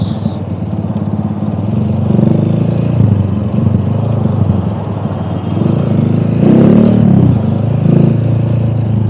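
A Rusi Classic 250 motorcycle engine running and revving up, a close, loud, throbbing drone with rising surges of throttle, steady over the whole stretch.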